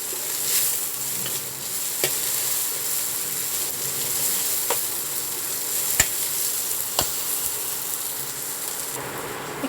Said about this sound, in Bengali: এখানে ক্যাপসিকামটাও ভাজা ভাজা হয়ে গেছে